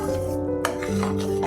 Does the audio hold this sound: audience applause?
no